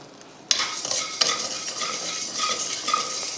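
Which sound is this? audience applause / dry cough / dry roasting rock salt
dry roasting rock salt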